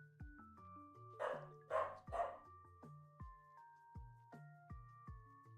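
A pet dog at home barks three times in quick succession, faint and a little distant, under a soft plinking game melody that keeps playing throughout.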